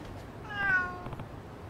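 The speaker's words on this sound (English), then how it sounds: "Let me pet one of these cats." A cat in the video game Lost Judgment gives a single short, fairly faint meow that rises and falls, set against a quiet low ambient background.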